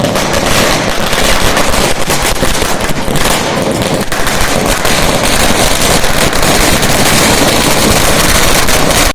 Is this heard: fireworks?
yes